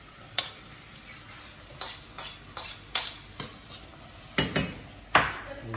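Garlic cooking in a pot for a seafood boil, with sharp scraping and knocking stirs of a utensil against the metal at irregular intervals over a faint low sizzle, close and moderately loud, no talking.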